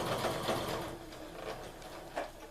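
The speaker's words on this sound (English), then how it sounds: "we're going to sew a scant 1/4 inch seam on the sewing machine" Sewing machine running a scant quarter-inch seam on a mitten cut from an upcycled sweater, short close bursts of stitching whir that slow and pause.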